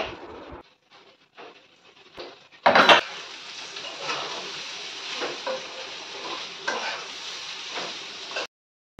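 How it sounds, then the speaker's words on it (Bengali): Potatoes frying in a pan give a soft, steady sizzle, opening with scattered faint clatter, then a sharp burst at about three seconds and intermittent stirring scrapes before the sound stops abruptly. "আলু ভাজা তো বসিয়ে দিয়েছি"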